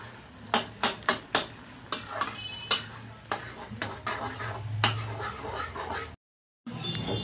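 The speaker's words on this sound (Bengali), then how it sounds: "এখন আমি সুজি মেশাবো আর নাড়াবো, নাহলে দলা পাকিয়ে যাবে।" Semolina being stirred into half-cooked vegetables in a pan, a spoon scraping and knocking against the metal in a series of sharp taps early on, then steadier scraping with a soft sizzle underneath.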